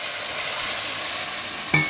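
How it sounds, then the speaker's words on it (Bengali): Tomato paste and turmeric masala sizzle and fry in a pan while being stirred, a steady close hiss with a sharp utensil clink near the end; no talk. "ভালো করে মশলাটাকে ভাজতে থাকবো"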